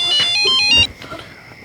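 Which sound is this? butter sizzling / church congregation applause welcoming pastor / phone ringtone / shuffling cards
phone ringtone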